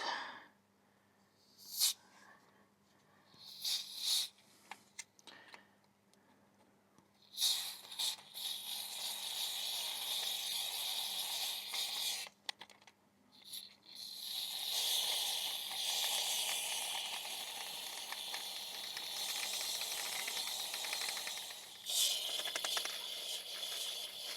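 Chain lube is sprayed onto a motorcycle chain in short hissing bursts, then longer sustained sprays, with faint mechanical clicks and quiet gaps between them.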